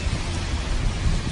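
Heavy rain pours steadily in Jeddah during a storm with flash flooding, a dense continuous roar with low thunder rumbling underneath, loud and close throughout.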